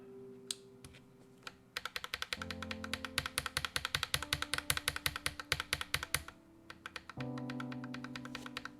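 Rebuilt GMMK Pro mechanical keyboard with purple panda switches and GMK keycaps being typed on, a fast run of crisp, close tactile clacks in steady bursts, alone over a faint background hum.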